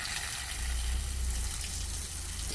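Water gushing steadily from a hose or tap while garden plants are watered in a backyard, an even, continuous rushing flow with no talk.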